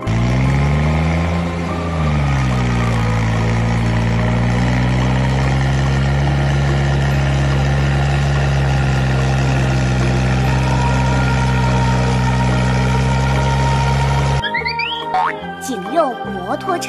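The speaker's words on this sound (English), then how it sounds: "农场谷物装载车 Farm grain loader" Toy farm grain loader with a steady, loud electronic engine drone that holds for most of the stretch, ending with a short, bright, bouncy jingle.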